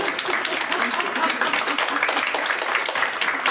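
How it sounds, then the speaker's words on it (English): A crowd applauds with steady, dense clapping that holds at a moderate level throughout. "a round of applause for"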